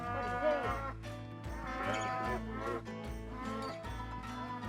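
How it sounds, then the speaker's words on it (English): Cattle moo loudly and repeatedly during sorting, several overlapping low calls from a nearby herd in quick succession. "what is going on now is sorting of the cattle in different"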